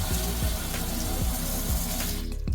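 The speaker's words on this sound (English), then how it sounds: "We need to soak the blueberries." Tap water runs steadily into a bowl of blueberries set to soak, a continuous close splashing rush.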